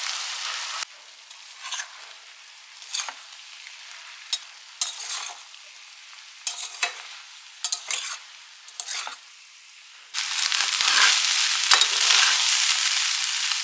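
Precooked rice being stir-fried in a pan, heard as a series of short scraping, sizzling stirs separated by brief pauses, ending in a louder, continuous hiss of frying.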